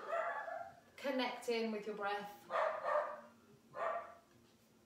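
A dog barks in short, repeated yaps during a vinyasa yoga session, the barks mixed with an instructor speaking.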